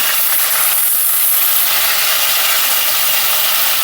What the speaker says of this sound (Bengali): একটু গরম জল দেবো একটু জল দিলাম